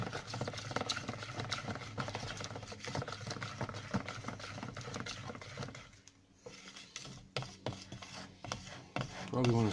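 A spoon stirs a flour mixture in a bowl and scrapes around the sides, giving a continuous soft rasping and rubbing that breaks into a few scattered knocks and scrapes near the end.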